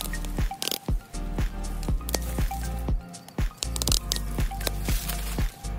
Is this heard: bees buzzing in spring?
no